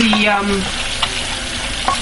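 Steady close-up sizzling of jollof rice sauce frying in a pan, with occasional scraping stirs cutting through the continuous crackle.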